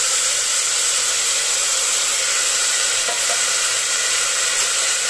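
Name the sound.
soaked chickpeas added to hot pan, sizzling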